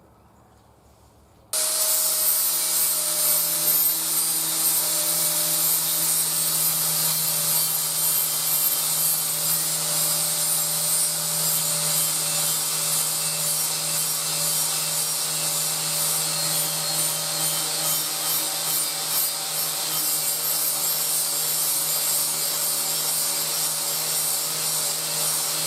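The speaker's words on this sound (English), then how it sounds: "one of these flap sanders on a grinding wheel, it does a pretty good job to getting it reasonably sharp enough to work anyway" A flap sander mounted on a grinding wheel sharpens a dull blade, starting abruptly and holding a loud, steady grinding whine with a constant motor hum throughout.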